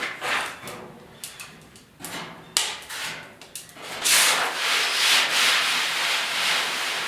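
Hand sanding of bodywork on the hood of a 1956 Ford pick-up with coarse 40 and 80 grit paper. Several short separate rubbing strokes come first, then a longer continuous stretch of loud, close scratchy sanding.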